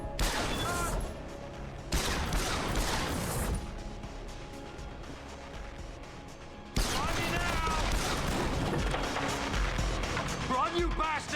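Bursts of gunfire in Deus Ex: Human Revolution on PC, dense volleys of shots cutting in and out with a loud sustained barrage near the end, mixed with game sounds and voices.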